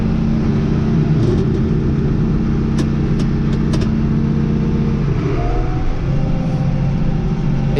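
Truck with a chrome stack driving, its engine a loud, steady, close drone with a slight change in pitch partway through, and no talking.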